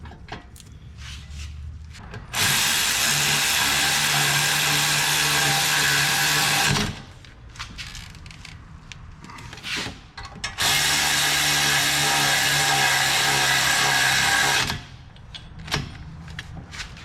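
Power tool driving the brake caliper bolts on a Ford Flex rear brake, two loud sustained bursts of about four seconds each with quieter workshop handling noise between them.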